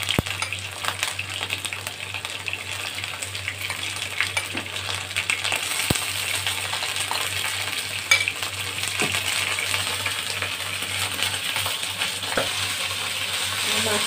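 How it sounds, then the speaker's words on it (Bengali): Mushrooms fry in a pan with a steady, fairly quiet sizzle and a low hum underneath, broken by occasional small clicks and taps of a utensil against the pan. "মাশরুমগুলো ভালো করে একটু ফ্রাই করে নিতে হবে।"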